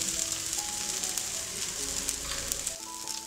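Wheat (atta) dosa sizzles in oil on a hot pan, a steady, close, even hiss that carries on alone with no voices.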